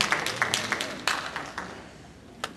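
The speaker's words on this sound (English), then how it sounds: "You can clap." Scattered hand claps from a small audience at a Republican primary candidate forum, a few sharp separate claps that thin out over a couple of seconds.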